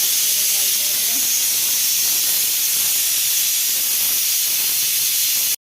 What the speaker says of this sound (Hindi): तो गाइस मेरा आलू बॉयल हो रहे हैं।